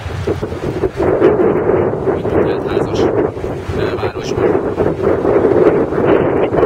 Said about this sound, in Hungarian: A szél viszont igen rendesen fújdogál.